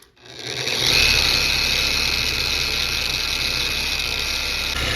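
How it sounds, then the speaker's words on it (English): A dual-action buffer polisher whirs up quickly and then runs at a steady, loud drone while pressed against a ball of aluminum foil. No one talks. "I do have one of these buffer polisher DA buffers things, so we're gonna try to just hold this down and see if we can get it polished up"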